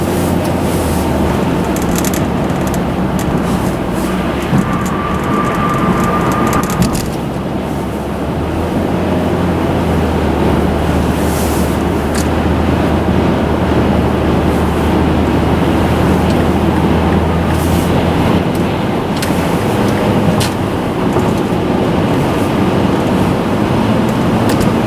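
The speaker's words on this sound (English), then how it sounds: "You can hear the wind noise, I'm sure," Steady broadband wind rush and low road rumble fill the cabin of a Pontiac Vibe cruising at highway speed, around 70, a constant loud roar with no pauses.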